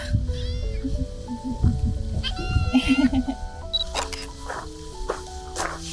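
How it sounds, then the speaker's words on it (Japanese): Several high, thin kitten meows sound in quick succession outdoors on Ibuki Island, Kagawa, Japan, over soft background music, with a voice speaking briefly in between. "子猫ちゃんがいました。"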